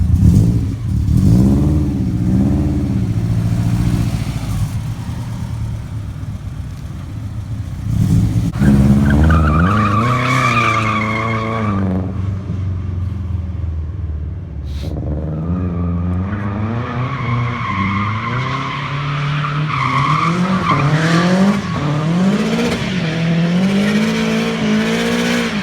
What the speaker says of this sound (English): I want to see the Subaru drift more